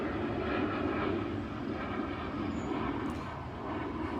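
An airplane flying overhead, its engine a steady broad roar that holds at an even level throughout the clip.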